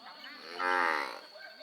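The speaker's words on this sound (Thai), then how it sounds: "อันนี้เป็นควายตัวผู้" A single buffalo bull lows once at a Thai livestock market, a short, moderately near moo that swells in the middle and fades.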